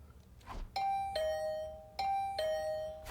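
A doorbell chimes in a video game, a two-tone ding-dong rung twice in quick succession, clear and moderately loud over a quiet background.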